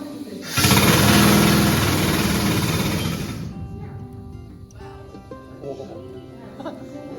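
A loud 1903 drifter rock drill, run at roughly 25% power in a gold mine, bursts into a harsh, rapid hammering roar, runs steadily for about three seconds, then cuts off, leaving quieter clatter and background noise.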